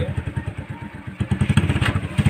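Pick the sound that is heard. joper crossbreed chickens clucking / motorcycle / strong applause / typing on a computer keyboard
motorcycle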